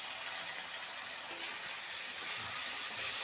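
Ground spice paste fries with reddened onions in a pan, a fairly faint, even hiss of sizzling that carries on steadily with one small clink of a utensil.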